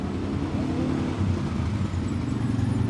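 A vehicle driven by Kevin arriving on a farm, a low steady engine rumble close by, continuous for a few seconds with no voices.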